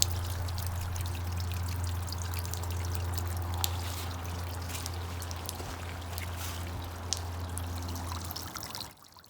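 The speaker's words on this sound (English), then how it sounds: "use the grinder to carve in channels for the water to flow" Water pours and trickles steadily through channels ground into a carved stone fountain with a fountain head, over a low constant hum, close by and continuous until it cuts off abruptly at the end.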